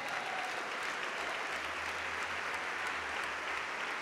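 A church congregation claps continuously in a loud, steady, dense ovation that fills the room for the whole stretch, with a low hum beneath it.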